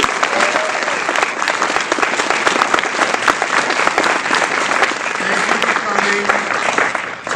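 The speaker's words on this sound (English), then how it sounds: "A round of applause." Loud, sustained audience applause fills a room, with dense clapping close by, a few voices mixed into the crowd, and a slight fade at the very end.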